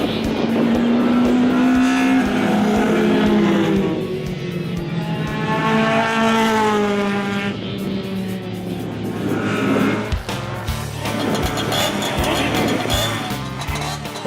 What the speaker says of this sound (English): Here we see Barry Liggins in the yellow GSM Dart racing down the home straight.